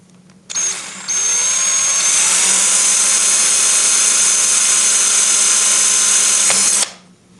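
A power drill bores into a metal can, a loud steady high-pitched whine running continuously for about six seconds after a brief start, then cutting off abruptly.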